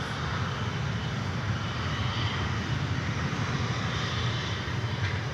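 A Mesa Airlines airplane at DFW Airport produces a steady, loud engine roar, an even broadband rumble with no breaks, heard from outside.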